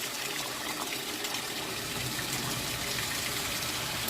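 A washing machine fills with water on its automatic fill setting, a steady gushing rush of incoming water that holds an even level throughout, nearby and with no talking.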